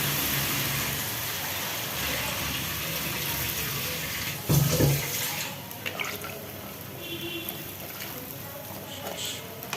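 Water poured into a pot of pointed gourd in a curry runs in a continuous gushing stream, then drops to a gentler trickle with a clunk of the pot midway, while a voice talks over it.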